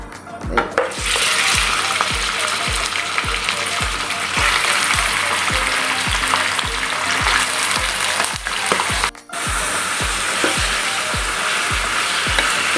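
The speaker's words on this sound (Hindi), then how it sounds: "जब तक ये पिंक से वाइट नहीं हो जाता, उतनी देर हमने इसको ऐसे ही घी में फ्राई करना है।" Mutton pieces frying in ghee with spices for dhovan dahi gosht, a loud continuous sizzle with a rapid regular rhythm of spatula scrapes and knocks against the pot, close up, with one brief pause, no talk.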